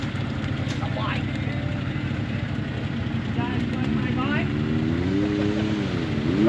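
Motorbike engine droning steadily while riding, a loud continuous rumble with pitch rising and falling as the throttle shifts, and a voice talking over it.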